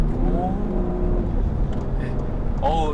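A Lincoln Aviator accelerates from inside the cabin, its engine tuned for a muscle-car tone, a steady low rumble that rises slightly as it pulls through the gears, with a voice talking over it.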